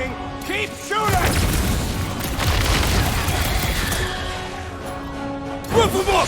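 Battle in the Marvel's Guardians of the Galaxy video game, with continuous weapon fire, booming blasts and crashing impacts under a music score, voices talking over the fight.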